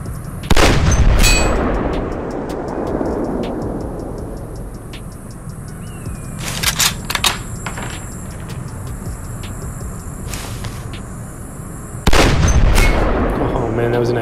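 Gunfire in the Sierra 7 shooter game: sharp loud shots burst at the start and again near the end, with scattered lighter shots and ringing game effects between them.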